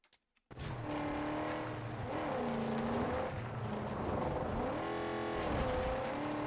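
A car engine in the Mad Max video game revs loudly and steadily with rising and falling pitch while tires squeal over it, sustained and close after a brief quiet start.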